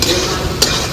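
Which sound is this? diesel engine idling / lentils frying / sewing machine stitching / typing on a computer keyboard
lentils frying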